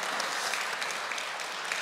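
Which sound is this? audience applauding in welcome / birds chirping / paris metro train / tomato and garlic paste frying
audience applauding in welcome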